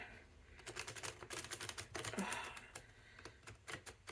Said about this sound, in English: I'm going to shuffle the cards so that we may get an accurate reading